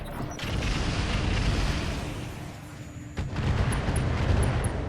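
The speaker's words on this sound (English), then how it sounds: "Because ammo explosions are definitely a thing." A heavy rumbling blast of a mech ammo explosion in the video game Roguetech swells and roars, with dense low booms and mechanical crackle, then surges again near the end.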